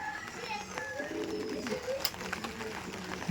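Pakistani Chotiyal pigeons coo softly and repeatedly at close range, with a steady background of other birds and faint voices.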